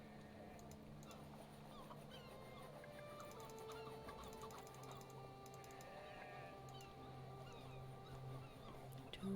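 Chickens cluck steadily in a farm area of the settlement-building video game Patron, several birds overlapping over a constant low hum of game ambience, with occasional short chirps and a faint rooster-like call, moderately loud throughout.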